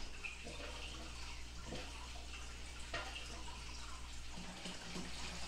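Steady rush of water from a hose filling a 37-gallon aquarium tank, continuous and fairly close, with faint clunks now and then.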